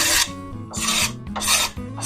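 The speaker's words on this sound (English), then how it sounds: "that allows me to scrape, and I'll get loads of varnish off of the swing" A burr-edged scraper rasps varnish off a wooden swing in about three close, loud strokes, each a harsh broadband scrape with brief pauses between.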